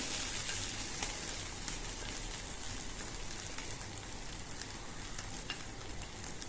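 Grated potato and sweet potato sautéing in hot ghee, giving off a steady, even sizzle with fine crackles throughout and no voices.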